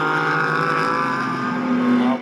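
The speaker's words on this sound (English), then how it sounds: "Holland did a nice job just keeping these Aston Martins at bay, leading the way with this Porsche Cayman" Race cars at Sonoma, a Porsche Cayman leading Aston Martins in a GT America race, roar past with a loud, sustained engine howl that rises slightly in pitch before cutting off.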